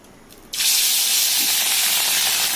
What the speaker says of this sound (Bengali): নুন হলুদ মাখিয়ে ভাজলাম।